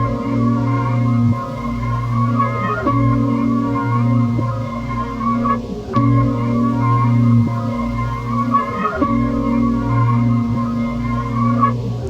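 Layered acoustic guitar run through plugins for a dark, organic sample texture, with sustained low tones and a steady, dense harmonic wash that changes faintly every few seconds, loud and continuous without voices.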